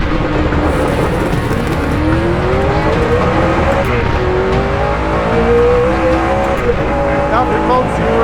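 Hennessey Venom F5 Revolution Evo, a twin-turbo hypercar of 2031 hp, launching hard on a public road, its engine climbing in rising pitch sweeps through the gears, loud and close from inside the cabin, with voices talking over it.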